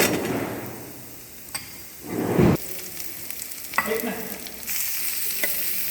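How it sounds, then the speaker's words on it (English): Garlic and onions sautéing in a pan for chicken fajitas, with intermittent sizzling bursts, utensil scrapes and clatter as the pan is stirred, close and moderately loud. "Saute the garlic a bit. Then you'll add little onions to it."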